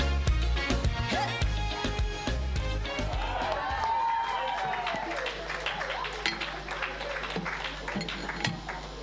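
Audience applause for a panel at the Africa Wisdom Summit, a steady wash of clapping and crowd noise filling the hall, with music and speech overlapping early on.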